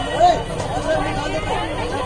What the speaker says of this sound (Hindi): लॉकडाउन की खबर सुनते ही बाजारों में भारी भीड़ देखने को मिली